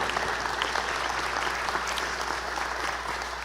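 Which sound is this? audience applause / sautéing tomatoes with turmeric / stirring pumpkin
audience applause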